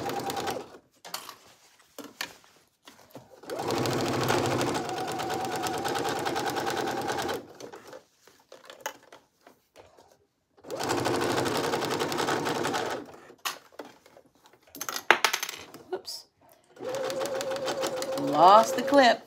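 A home sewing machine runs in three long bursts while stitching a dress seam, going back over a stress point with a short backstitch. The loud, steady whirring alternates with quieter gaps where someone talks.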